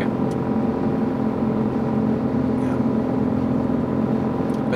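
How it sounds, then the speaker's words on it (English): A steady low drone from a hybrid car's range extender engine hums throughout at constant level, with a faint occasional click, heard from inside the vehicle. "Now I hear the engine."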